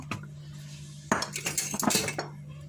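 Pumpkin brioche dough is mixed in a bowl, with a utensil scraping and clinking against the sides in irregular bursts over a low steady hum.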